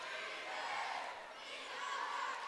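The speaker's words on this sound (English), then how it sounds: "the old gym in Mullen has got a crowd tonight" Crowd noise filling an old high school gym in Mullen during a Bootheel Conference Tournament basketball game, a steady distant murmur of many voices that swells and dips slightly.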